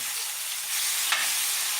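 Steady hissing sizzle of liver frying in a hot cast iron skillet, close and even, with a brief scrape partway through; no talking.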